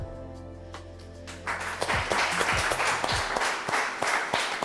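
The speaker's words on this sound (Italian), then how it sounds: "Ve lo meritate questo applauso" A studio audience at the finale of a sandwich cooking show breaks into applause after a brief quiet moment, steady massed clapping that carries on evenly at moderate, somewhat distant loudness.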